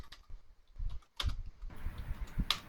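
Computer keyboard typing while a router is configured, a few quick irregular bursts of close clicking keystrokes separated by short pauses, with no voices.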